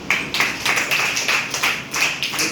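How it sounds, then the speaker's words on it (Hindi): A class of students clapping together for a classmate, a burst of loose, overlapping hand claps that rise and fall in a few waves. "खड़े हो, ताली बजाओ इसके लिए।"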